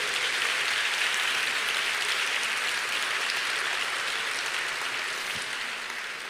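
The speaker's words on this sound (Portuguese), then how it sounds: "Você pode aplaudir a bondade de Deus?" An audience in a church sermon setting claps together in a steady, dense wash of applause that fills the room at moderate loudness and fades slightly toward the end.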